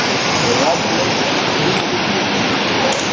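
Steady broadband rush of flowing water at a mountain campsite, loud and continuous without pause, like a nearby stream or waterfall, with faint voices buried beneath.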